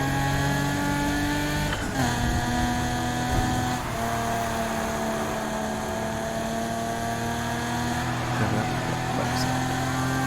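Race car engine in the video game Need for Speed Heat, a steady loud engine drone with shifting pitch and rising revs throughout, under a layer of game music.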